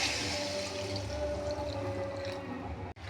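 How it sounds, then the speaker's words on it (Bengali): Water poured into a pot of vegetarian soybean curry as it cooks, a steady close-up splashing rush that keeps going for about three seconds before a brief cutoff, with no talking. "তারপরে দিতে হবে আমাদেরকে জল।"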